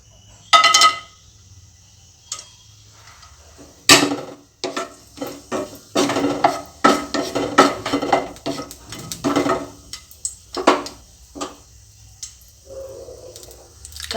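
Cashews frying in white oil in a pan for halwa, with clinks of a metal spoon stirring against the pan and soft sizzling, intermittent scraping and tapping throughout, no talking.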